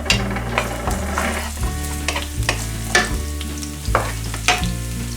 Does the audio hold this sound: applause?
no